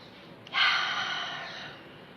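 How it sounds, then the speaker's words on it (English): A deep solar plexus breath drawn in sharply through the nose, a strong airy inhale that swells suddenly and fades slowly, close and alone. "I'm taking a solar plexus breath."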